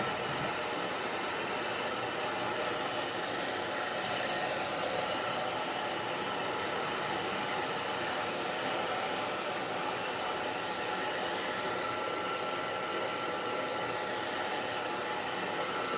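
A hair dryer blows continuously over a watercolor painting, a steady broadband whoosh with a faint motor hum, constant in level and moderately loud throughout with no talking.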